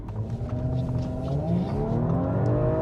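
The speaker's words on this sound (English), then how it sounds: "So I put my foot on the accelerator to give it a bit of a rev" A car engine revs with the accelerator pressed, a loud, close mechanical drone whose pitch climbs steadily and holds, with no voices over it.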